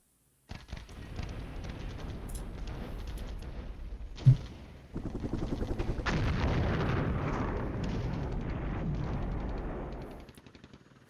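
Artillery fire in a NATO-era war video game, with one sharp nearby blast followed by a dense, rumbling barrage of rapid booms and crackling impacts that swells and then tails off.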